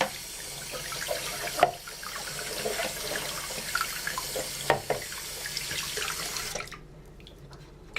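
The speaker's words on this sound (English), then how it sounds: "So let's wash this off. Use a little warm water." Warm tap water running over a plastic model kit of the AMT 1983 U.S.S. Enterprise, a steady splashing stream with a couple of knocks against the sink, cutting off abruptly near the end.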